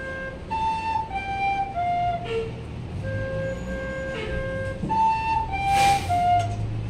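A recorder plays a simple Christmas melody, clear single whistled notes stepping up and down in a slow, steady phrase, moderately close with a faint background hum and no talking.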